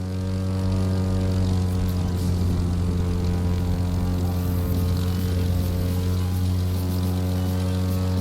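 A propeller plane skims the treetops at low altitude in The Crew 2, its engine a loud, steady drone with strong harmonic hum held throughout, no voices.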